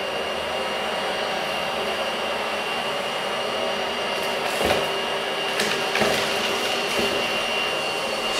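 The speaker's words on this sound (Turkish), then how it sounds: "Süpürge gerçekten kendini gösteriyor." A Philips H1 Aqua Trio 2023 wet-dry vacuum cleaner runs with a steady, loud motor whine and airflow hiss throughout, with a few brief louder surges as it passes over the floor.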